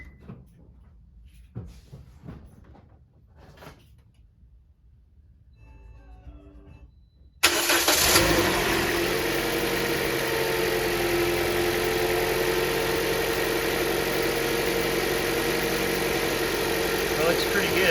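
A 2009-2013 Toyota Corolla engine cranks and catches after a serpentine belt change, then settles into a steady, even idle that runs to the end. Quiet shuffling comes first.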